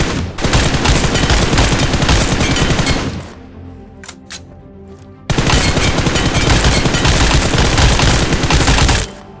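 Hip-fire gunfire in the PUBG training ground, loud sustained automatic bursts: a long string of rapid shots, a short pause with a few isolated sounds, then another long full-auto burst, alone without talk.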